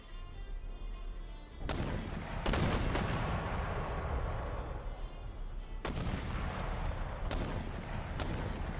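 Mortar rounds firing and landing against infantry in a combat video game, with several sharp booming impacts spaced irregularly over a steady rumbling battlefield din.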